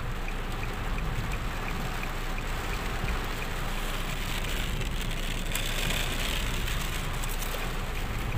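Heavy rain falls in the desert near Al Ain in the UAE, a dense, continuous hiss and patter of drops that stays steady and loud throughout.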